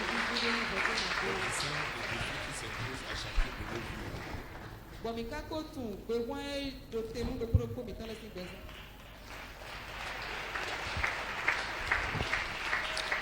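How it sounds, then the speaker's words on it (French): Church congregation applauding and cheering during a French-language service, a dense sustained clapping wash that dips midway as voices and singing-like shouts rise, then swells again to full applause. "Acclamez pour nos techniques."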